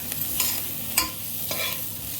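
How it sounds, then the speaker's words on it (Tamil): Chilli powder and turmeric are sautéed in a pan: a continuous sizzle with three or four short scraping strokes of a spoon stirring the spices. "மஞ்சப்பொடி போட்டு வதக்கிட்டுருக்கேன்"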